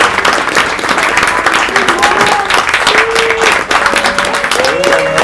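Applause from the audience at a museum light-show performance by an autism association troupe, a dense steady wash of clapping lasting throughout, with voices and cheers poking through the crowd noise.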